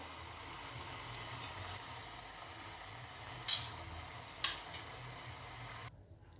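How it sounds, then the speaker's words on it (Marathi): Tomatoes cooking in a pan for tomato curry, a faint steady sizzle and simmer with a few soft clinks of a utensil, then quiet at the end. "बघा शिजत आहेत टमाटर"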